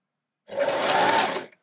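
A sewing machine stitches a short forward seam on a dress, giving one steady, close whirring run of about a second with no voices.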